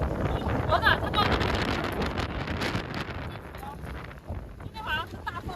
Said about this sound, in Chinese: 你看今天这个风好大，这个浪好大。